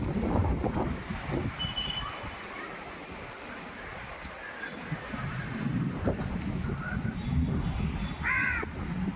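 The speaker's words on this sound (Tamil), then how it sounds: "எப்படி இருக்கு பாருங்க காற்று" Strong wind gusting past the microphone on an open stretch near Pallikaranai, steady and loud throughout, with crows cawing in the background and a short bird call near the end.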